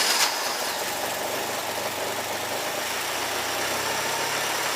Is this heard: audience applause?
no